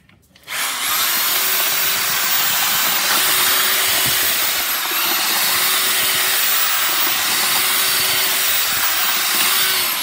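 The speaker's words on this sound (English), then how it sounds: "So I'm going to use an auger bit." A power drill fitted with an auger bit spins up to speed and churns deck mud in a bucket, a loud, continuous high whine with a gritty scraping texture that runs without pause after a brief quiet start.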